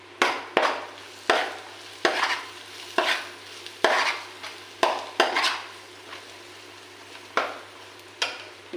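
Repeated scraping strokes of a spoon stirring chili powder and ginger-garlic paste in a pan for fish curry, about a dozen sharp, regular scrapes close by over a faint sizzle, with no talking.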